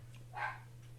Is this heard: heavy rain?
no